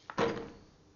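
A door being tried but not opening: a short thump and rattle of the door against its frame, close and moderately loud, followed by a fading rumble.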